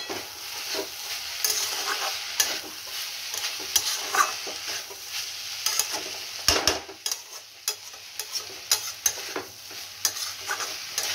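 Mixed vegetables for panchmesali torkari sautéed with spices and a little red sugar, a utensil stirring and scraping the pan in irregular strokes over a steady close sizzle, no voices.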